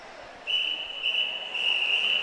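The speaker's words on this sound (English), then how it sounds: "the final whistle of the first half" A referee's whistle blows to end the first half of a Tidewater Piranhas versus NEP Wildcats game, one sustained shrill blast of about two seconds over faint crowd noise.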